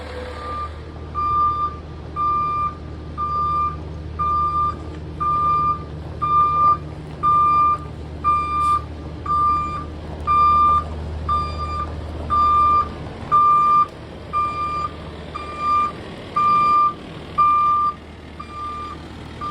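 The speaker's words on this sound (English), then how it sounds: "What a Marvy day when the pooper truck shows up." A septic pump truck reverses on a farm, its backup alarm beeping in a steady, evenly spaced series over a low engine rumble, heard from a moderate distance.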